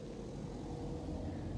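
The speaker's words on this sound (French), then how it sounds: "je vais laisser passer la voiture" A car passes outside during a live broadcast, a low steady rumble of engine and tyres that holds at moderate distance for the short stretch, with no speech over it.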